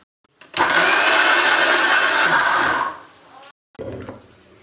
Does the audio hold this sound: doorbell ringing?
no